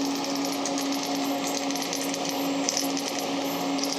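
MIG/TIG welding on stainless steel pipe with a REDI2WELD system, a steady dense crackling buzz with a constant hum running evenly throughout, close and continuous.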